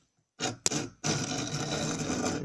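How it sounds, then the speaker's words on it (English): A steel saw cuts into a Pentium 4 CPU cooler clamped in a vise, a harsh rasping stroke after a short silence, then a sharp clank and a longer continuous grinding stroke, close and loud. "I will now proceed to put this in my vise and cut some more. So here we are cutting into this piece."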